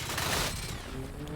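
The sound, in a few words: gunfire in Generation Zero video game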